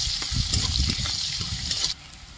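Chopped onions sizzle in hot oil with dry red chillies and whole garam masala spices, a steady close frying hiss with soft stirring scrapes that cuts off abruptly near the end.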